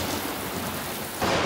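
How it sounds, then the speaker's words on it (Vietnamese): Steady rain pours under rolling thunder in a Peppa Pig cartoon, with the downpour swelling louder near the end and no speech over it. "Mẹ ơi, tiếng sấm sét lớn quá."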